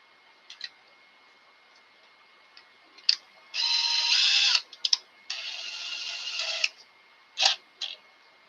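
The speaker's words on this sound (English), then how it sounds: "we're going to drill a 3/16 hole for the tap size of 1/4-20." A drill bores a 3/16 inch hole for tapping a 1/4-20 thread, whirring in two short sustained bursts separated by scattered light clicks and taps.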